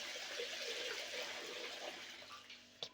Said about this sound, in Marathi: स्वच्छ पाण्याने आपल्याला धुवून घ्यायचे 4 ते 5 वेळा.